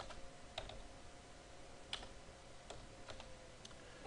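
Soft, rapid clicks of numbers being keyed on a computer keypad, a quiet close-up patter with a few sharper taps, no voices.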